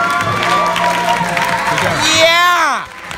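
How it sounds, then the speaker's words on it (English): Audience at the closing of a barista camp, a mix of clapping, cheering and crowd voices, with a rising whistle-like tone sweeping up and then fading near the end. "Give yourselves a round of applause for being here."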